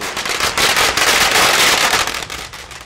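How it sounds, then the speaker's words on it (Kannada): Firecrackers burst in a dense, continuous crackling barrage as supporters celebrate outdoors in Holenarasipura, loud and close with no pause. "ಬೆಂಬಲಿಗರು ಪಟಾಕಿ ಸಿಡಿಸಿ ಸಂಭ್ರಮಿಸಿದ್ರು"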